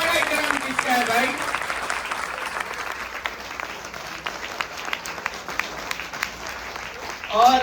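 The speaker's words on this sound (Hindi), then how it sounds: "जरा तालियां देना" Applause at a Republic Day celebration at an Islamic school honoring a student, a scattered, moderately faint clapping crowd that thins out toward the end, with a voice briefly audible at the start.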